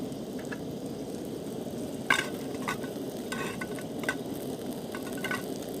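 Sausages and black pudding sizzle and spit in a pan on a gas stove at a Halloween wild camp outdoors, a steady close crackle with occasional scrapes of turning and no speech.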